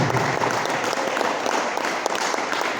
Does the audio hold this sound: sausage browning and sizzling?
no